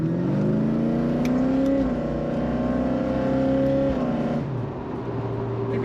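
Ford XE Fairmont Ghia with a Cleveland V8 accelerating hard, the engine revving loudly and climbing steadily through the gears, with a shift near the end, heard up close from inside the car with no talking.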